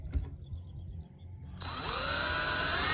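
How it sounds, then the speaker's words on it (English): A power drill starts after a moment of quiet handling and runs steadily and loudly, a high whine grinding through a black rubber strap on a Maxx Air fan. "I just kind of drill a bit till the black rubber comes up"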